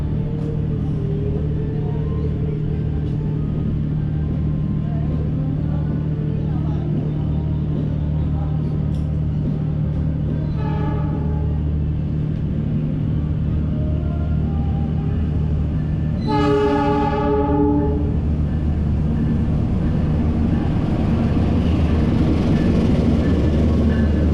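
The Argo Lawu train from Solo rumbles steadily as it pulls into Purwokerto station, with a loud horn blast sounding over the low drone, preceded by a shorter, fainter horn note.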